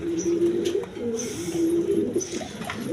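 Several pigeons at a breeding pair's coop, offered for sale with their squab, coo in low, steady repeated calls close by, overlapping throughout with faint higher chirps behind.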